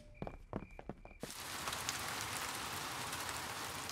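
After a few sparse drips and tones, a cartoon rain effect starts and falls steadily on a garden, a continuous even hiss with no talking.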